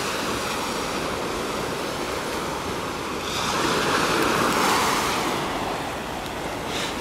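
Surf rolls onto a beach by the White Gold hotel in Alanya, a continuous wash of breaking waves that swells louder midway, with wind buffeting the microphone and no voices.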